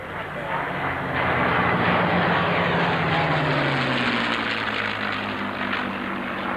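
P-51 Mustang propeller fighters fly over an air show in Clark County, Indiana, their loud, steady engine roar sweeping past with a falling drone and no talk.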